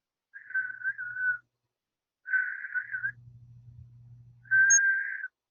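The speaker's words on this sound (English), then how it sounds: "I'm a horrible whistler." A person whistles three short, wavering tones, the last slightly higher and steadier, with a low hum sounding between the second and third.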